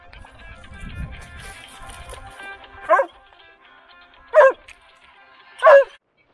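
A dog barks three times in evenly spaced sharp yaps while playing fetch with a stick at Lake Texoma, following a brief stretch of low rustling and movement.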